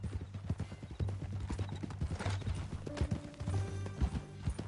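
Horse hooves clip-clop steadily in Red Dead Redemption 2 while the game horse whinnies and snorts, with faint ambient game sound underneath.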